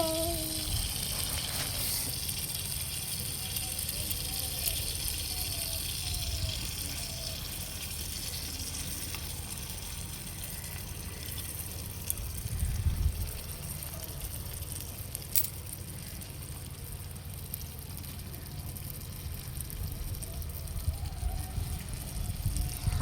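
A continuous sizzle of prawns frying in a pan, steady and close, with faint voices briefly in the background.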